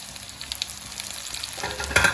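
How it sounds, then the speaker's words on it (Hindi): Butter chicken pieces shallow frying in a pan, with tomatoes and green chillies being added: a soft crackling sizzle with light stirring that swells into a louder, brighter spitting burst near the end. No one speaks. "ये थोड़े थोड़े फ्राई हो चुके हैं, शैलो फ्राई। इसमें टमाटर और हरी मिर्ची जाएगी।"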